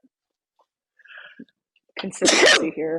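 A single sharp sneeze bursts out loudly near the middle, with soft speech before it and a brief voice trailing after.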